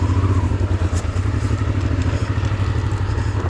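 Honda Transalp 600 motorcycle ridden off-road, its engine droning steadily and loud throughout with a low rumbling pulse, occasional clatter and thuds from rough terrain mixed in.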